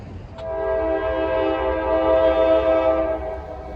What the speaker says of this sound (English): So we got a train coming, so stand by.